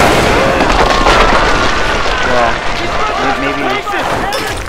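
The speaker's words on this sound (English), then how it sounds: "You just got wrecked by the explosion." Loud, dense explosive blasts and gunfire from a Tomb Raider video game fill the scene, followed by fading rumble, with excited talk over it.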